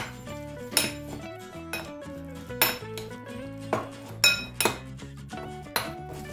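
Salted lard and dill being stirred in a plate, with a spoon or fork repeatedly clinking and scraping against the dish in irregular sharp knocks, close and fairly loud, with no talking.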